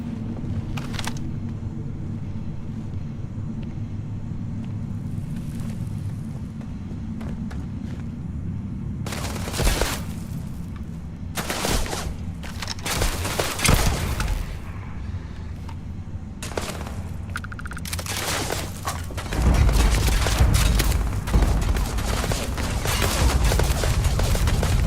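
Gunfire in the space game Starfield comes as scattered bursts of rapid shots over a steady low rumbling background, with clusters of impacts building toward the end.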